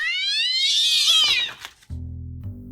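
A cat lets out a loud, rising and falling caterwaul howl after being doused with a gallon of freezing cold water, lasting about a second and a half and then cut off abruptly, followed by a low steady hum.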